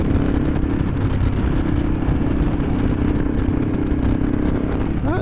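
A Honda CRF300L motorcycle accelerates along a country back road, its engine droning loud and continuous against heavy wind rumble. A brief rising whine comes through at the end.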